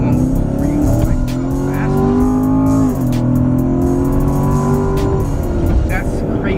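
A 2019 Chevrolet Corvette Grand Sport's naturally aspirated engine pulls hard under acceleration, its rising tone dropping briefly at a gear change before climbing again, loud and close throughout.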